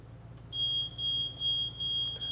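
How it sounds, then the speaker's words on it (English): A voltage tester held against an energized live power line gives a steady high-pitched electronic beep that sounds in several repeated pulses, loud and clear above a low background hum. "Now you can hear that audible beep"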